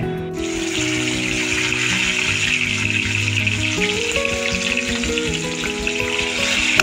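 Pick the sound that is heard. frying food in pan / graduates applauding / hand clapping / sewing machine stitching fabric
frying food in pan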